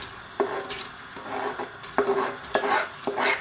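Onions go into hot oil in a pressure cooker, giving a series of short scraping, stirring strokes against the pot over a faint sizzle, close and fairly quiet.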